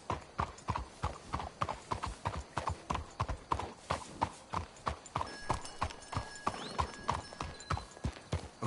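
Horses' hooves clip-clop in a steady walking rhythm in the video game Red Dead 2, close and even, with a brief whinny-like sound near the end.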